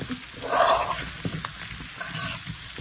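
Sautéed potatoes and peppers fry slowly on low heat, giving a soft, even sizzle with a few light stirring clinks and scrapes close by.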